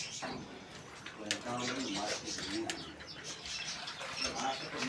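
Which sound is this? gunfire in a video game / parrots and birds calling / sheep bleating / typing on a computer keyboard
parrots and birds calling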